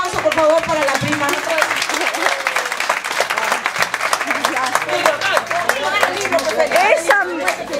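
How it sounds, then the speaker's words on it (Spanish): A gathered crowd applauds for a cousin, with a burst of close, dense clapping that carries on throughout, mixed with scattered voices and chatter. "Un aplauso, por favor, para la prima."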